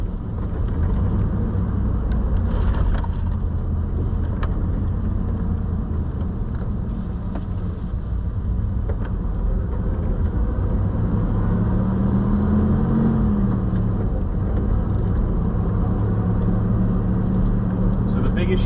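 A Chevrolet Silverado pickup truck engine running: a continuous low, throaty rumble holding steady throughout, heard close by.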